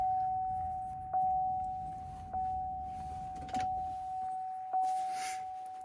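Switching a Chevy Express van's ignition to on brings a steady electronic chime tone, with fresh clicks and rising pulses roughly every second, mechanical clunks underneath and a brief rustle near the end.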